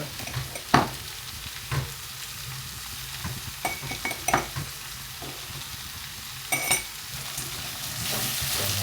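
Beef intestine curry stirred and fried in a pan after spice powder is added, a steady sizzle underneath with several sharp scraping stir strokes spread through, close and clear with no talking.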